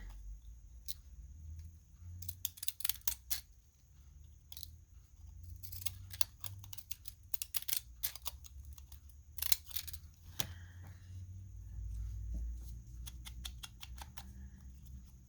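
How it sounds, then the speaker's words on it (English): Small scissors snip at a little piece of paper during a paper craft project, making quiet, crisp clicks. The clicks come in quick bursts with short pauses between them, close by against a low background hum. "Oh, I don't want to cut it too far down."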